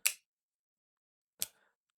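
Two crisp metallic clicks from the lock of a CIVIVI Baby Banter 2 folding knife, close and isolated, about a second and a half apart in otherwise near silence.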